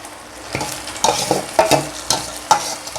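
Fish curry masala sizzles in a pan as it is stirred, with steady frying hiss and repeated scraping strokes of a spoon against the pan, close and clear with no talk.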